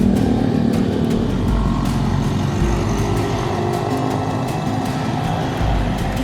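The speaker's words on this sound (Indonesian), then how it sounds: "Kita akan naik flyover walaupun motor tidak boleh, tapi banyak motor yang naik" Motorcycle engine humming steadily up close as the bike rides up the Daan Mogot flyover in heavy Jakarta traffic, with wind buffeting and surrounding vehicle noise throughout.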